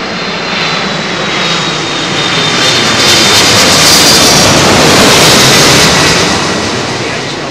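Jet airliner on final approach and landing on runway 27L at London Heathrow, a loud sustained engine roar that swells as it passes close overhead and then fades slightly, with no speech.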